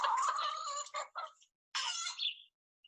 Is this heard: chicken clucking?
yes